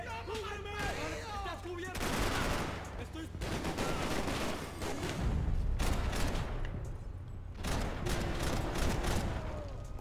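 Enemy gunfire aimed at the player in Max Payne 3, bursts of rapid shots and fusillades crackling throughout, loud and close, with a voice speaking over parts of it.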